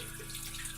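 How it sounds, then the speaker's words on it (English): Water poured into a frying pan with an egg cooking in oil, a brief soft steady rush and hiss, faint and alone with no talk. "The top of this isn't cooking, so I'm going to put some water in the pan."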